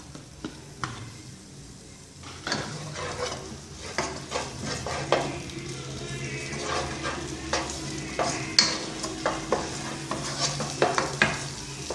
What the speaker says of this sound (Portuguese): Aqueça um pouco de óleo em uma panela. Coloque a cebola e o alho